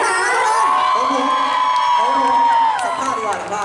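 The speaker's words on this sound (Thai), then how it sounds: "ทุกคนขอเสียงปรบมือสองคนนี้กันได้ไหม" Crowd at a stage show cheering, whooping and clapping loudly for two people brought up on stage, with shouting voices mixed into the noisy burst.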